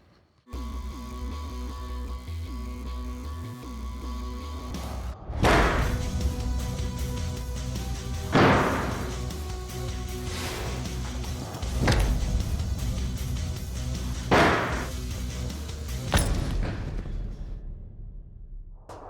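Sword chopping through jackfruit, heard as four or five sharp heavy impacts a few seconds apart, each one loud and close over a steady low background hum.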